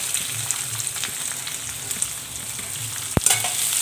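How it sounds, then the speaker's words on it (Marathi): Chopped onion frying in hot oil with ginger-garlic paste for egg fried rice, a steady close sizzle with soft stirring scrapes, then a sharp clink from a utensil near the end. "आलं लसूण छान परतलं की ह्याच्यामध्ये जो कांदा घेतला होता तो घालून घ्यायचा आहे."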